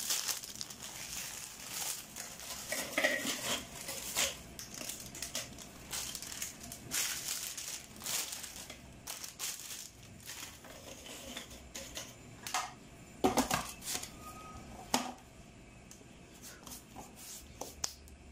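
Cookies are crushed for a homemade cheesecake crust, making a faint, continuous crunching and crinkling. Sharper cracks and rustles break in irregularly throughout.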